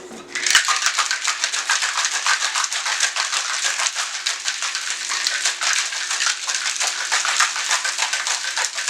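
Ice and ginger margarita mixed with triple sec and soda water rattle hard inside a cocktail shaker, a loud, dense, continuous clatter held steadily for several seconds at close range.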